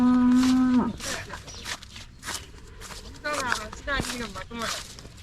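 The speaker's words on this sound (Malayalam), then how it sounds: "ഇവിടെ വയലിലവർ കെട്ടിയിരിക്കുന്ന കുറെ അധികം പശുക്കളാണ് നമ്മൾ കണ്ടിരിക്കുന്നത്" Cows moo loudly nearby, with a long low bellow at the start and further calls later, alongside footsteps and some background voices.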